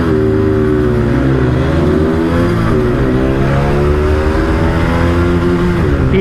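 Two 160cc motorcycles, a 2024 Bajaj Pulsar NS160 and a TVS Apache 160 2V, roar loudly together in a drag race, engines revving high and steady with rising and shifting tones throughout.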